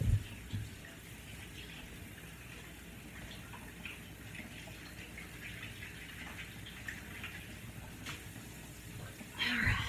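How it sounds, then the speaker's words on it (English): Hands being washed under a running kitchen tap, a steady soft stream of water with faint splashing throughout, and louder clatters at the start and end. "I'm going to wash my hands off and put some ketchup in there."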